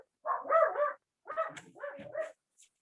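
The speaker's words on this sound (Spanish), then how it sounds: "tengo unos perritos muy ladrones" Small pet dogs bark indoors during a home video conference, giving several short yapping barks in two bursts separated by a brief quiet gap, moderately faint and somewhat distant.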